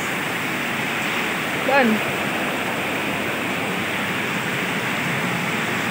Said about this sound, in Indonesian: Ini guys, tak lihatkan banjirnya guys.